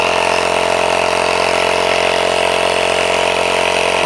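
A portable electric air pump runs steadily while inflating a car's flat tire at the roadside, a loud, constant motorized drone with a buzzing hum and no pauses.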